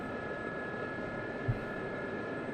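SA342 Gazelle helicopter turbine running in the DCS flight simulator, a steady, quiet whine and hum with a constant tonal drone and one brief low thump midway.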